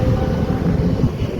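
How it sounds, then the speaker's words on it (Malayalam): Big wind turbine fan blades spinning in strong wind near Bijapur on the Maharashtra–Karnataka border, a loud, steady low whooshing roar like a passing airplane, continuous and close. "ഫാൻ കറങ്ങണ സൗണ്ട്, ഭയങ്കര സൗണ്ട്. വിമാനം പോണ പോലെ."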